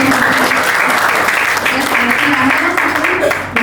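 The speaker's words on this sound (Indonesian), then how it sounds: "Tepuk tangan" A classroom audience claps after a student's presentation on sensors, a steady, dense patter of hands sustained throughout, fairly loud and close, with voices mixed in beneath it.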